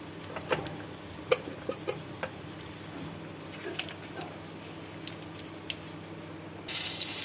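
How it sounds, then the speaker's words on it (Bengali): Prawns frying in mustard oil with dried chilli and bay leaf in a wok send up scattered sharp pops and ticks over a low sizzle, ending in a sudden louder burst of hiss. "চিংড়ি মাছটা দিয়ে দিলাম ভাজতে।"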